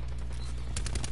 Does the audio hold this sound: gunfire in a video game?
yes